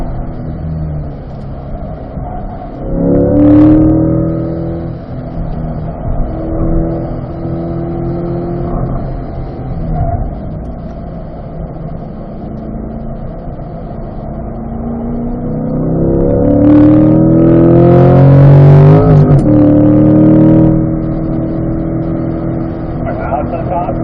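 A C8 Corvette held near full throttle in fourth gear on the Spring Mountain race track, a loud sustained engine drone that swells and climbs in pitch toward the end, with an instructor talking over it.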